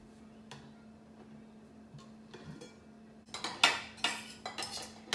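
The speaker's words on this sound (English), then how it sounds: "grab my sweet potatoes and start putting it in the containers next" Sweet potatoes scooped into plastic meal prep containers: quiet scraping at first, then a burst of sharp utensil clinks and taps against the containers, close and fairly loud, with no talk.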